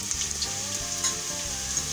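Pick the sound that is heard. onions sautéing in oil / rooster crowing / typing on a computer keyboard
onions sautéing in oil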